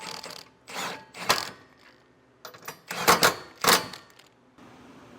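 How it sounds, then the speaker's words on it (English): A 19 millimeter socket on a ratchet tightens the bolts of a Blue Ox Class III trailer hitch on a 2017 Nissan Rogue, giving several short bursts of close clicking ratchet strokes separated by brief pauses, with no talking. "you want to go ahead and tighten them down with a 19 millimeter socket"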